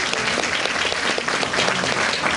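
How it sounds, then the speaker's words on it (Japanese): Audience applause during the Turtle Talk show at Tokyo DisneySea, a thick, continuous wash of many hands clapping together, loud and close and sustained throughout. "みんな二人に拍手してくれ"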